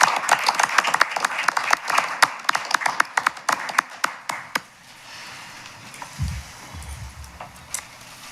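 Applause for the distinguished young women at a Keizer city council meeting: a room of clapping hands, dense and steady at first, thinning into scattered claps that fade out over several seconds, with a low bump of movement near the end.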